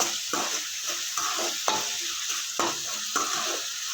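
Fried rice being stir-fried in a pan with no vegetables, a steady close sizzle broken by sharp scraping strokes of the spatula at irregular intervals, with no voices.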